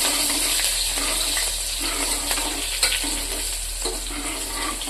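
Green chili, ginger and curry leaves dropped into hot oil in a pan for traditional moong dal, giving a loud continuous sizzle with a few stirring scrapes, no talk.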